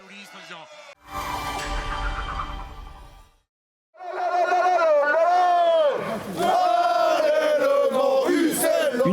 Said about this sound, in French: Une foule haranguée